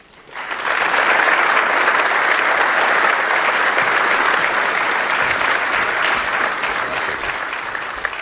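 An audience breaks into sustained, steady applause welcoming Congressman Michael Oxley at an event on U.S. exporting and the Export-Import Bank, with loud clapping holding for several seconds before fading slightly toward the end.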